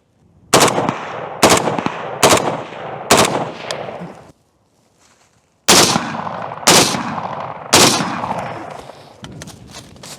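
Rifle shots at an outdoor range while accuracy testing, fired to finish a magazine: a sharp volley of about five loud cracks, a brief pause, then about five more, each followed by a short echoing tail.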